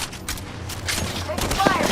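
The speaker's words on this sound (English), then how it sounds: "I'm hit. Getting shot at." Rapid bursts of gunfire crackle during an Apex Legends match, short volleys overlapping game sounds and a voice.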